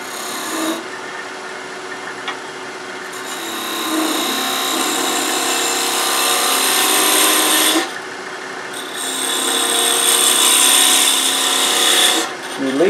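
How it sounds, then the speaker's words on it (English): A quarter-inch parting tool cuts into wood spinning on a lathe, a loud continuous rasping hiss that swells and breaks off briefly between cuts. "I'm going to use a 1/4 inch parting tool."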